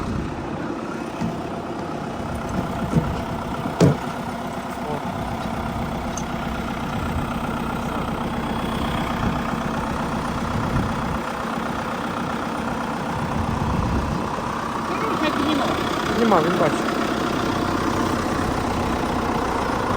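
A heavy MTZ tractor engine idles with a continuous low rumble for the whole stretch while laying a 5-tonne concrete airfield slab, occasional clanks and a brief spoken remark over it.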